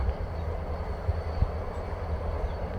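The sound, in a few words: train leaving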